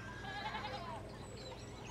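Sheep bleat in the video game Pentiment while hopping a fallen fence rail, giving quavering bleats at low level over a steady background hum.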